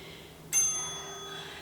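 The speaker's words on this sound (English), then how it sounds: "And that, my friends, was the final bell." A single bell strikes once, bright and ringing, marking the end of a low-impact bodyweight HIIT workout; the tone rings on and slowly fades over a quiet background.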